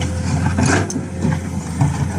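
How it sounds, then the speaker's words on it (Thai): The diesel engine of a Komatsu PC210MO excavator runs at a steady idle, a close, constant low rumble with some mechanical clatter and no talking. "เครื่องยนต์ทรงพลังครับ"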